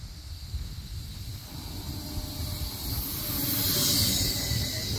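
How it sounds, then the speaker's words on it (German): A train pulls into a station with a rising hiss and rumble of wheels and brakes, growing steadily louder and closer as it arrives. "So, jetzt kommt der Zug."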